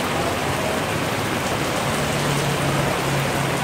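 Heavy rain pours steadily onto a Saigon street, a loud, dense and unbroken hiss, with a faint low engine hum underneath.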